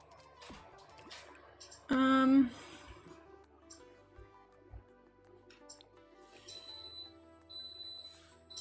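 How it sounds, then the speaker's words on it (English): An appliance in a home kitchen gives one loud, steady electronic beep of about half a second, standing out over quiet room noise, with faint tonal sounds later and no clear talking. "the kitchen's beeping."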